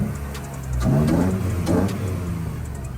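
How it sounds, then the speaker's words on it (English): A car engine revs at a Florida car meet, rising twice in quick swells over a steady idle, heard from nearby with outdoor background noise. "let me hear a little rev. Let me hear a rev."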